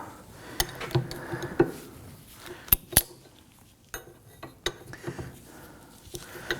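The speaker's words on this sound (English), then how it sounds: "Let's loosen this nut." Wrench work on the upper shock absorber nut of a Nissan Murano brings sharp metallic clicks and clanks, some ratchet-like, at irregular intervals, close and fairly quiet, with faint rustling between them.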